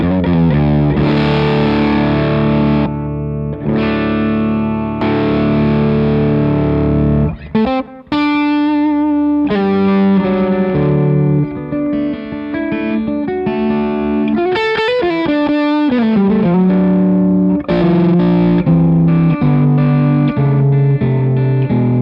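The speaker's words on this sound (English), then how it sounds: "So this would be a super cool fuzzy overdrive sound, works great with this modern fuzz module." An electric guitar played through a Jackson Audio Modular Fuzz pedal set for a fuzzy overdrive tone, loud distorted chords and riffs ringing continuously with brief pauses between phrases.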